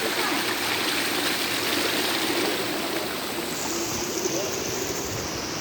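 A river and waterfall at Barra do Azeite in Cajati, São Paulo, rush in a steady, loud broadband roar that stays constant throughout with no pauses.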